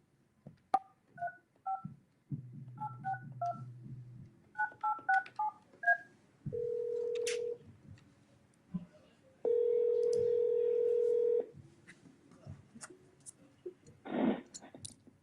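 Telephone keypad tones dialing a call, with bursts of quick dual-tone beeps and steady held tones between, interspersed with clicks and brief talk in a room.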